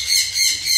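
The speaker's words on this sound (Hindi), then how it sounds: "ये यहाँ पर कुछ पक्षियों की चहचहाट सुनाई दे रही है।" Birds, parrots among them, chirp and squawk at an ISKCON site in the Narmada region, a loud, dense outdoor chorus of high, shrill calls that rise and fall in waves, with no talking.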